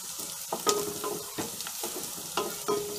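Onion frying in a pan for a spicy mixed sprout usal, with a steady sizzle broken by scraping stirs and occasional sharp spatula taps against the pan, close by and with no talking.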